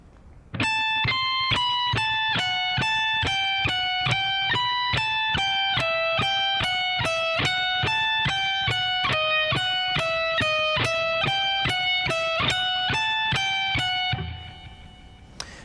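Fast electric rock guitar speed-soloing lick, a steady rapid stream of evenly picked distorted notes running alone for about fourteen seconds, loud and close, then ringing off.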